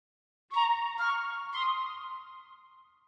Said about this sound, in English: 2 flute tracks here.